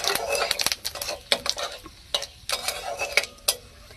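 Whole garam masala and cumin seeds fry in hot oil, giving light crackling and sizzling pops with intermittent clinks and scrapes of a utensil against the pan, close and fairly quiet.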